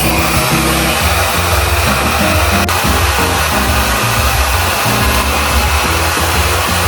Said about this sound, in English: And then we're gonna diffuse.